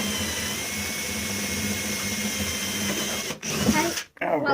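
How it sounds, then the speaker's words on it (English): A power drill whirs steadily while boring a hole in a wooden bird house, a continuous motor whine that cuts out briefly near the end before resuming. "we're going to drill this hole right here."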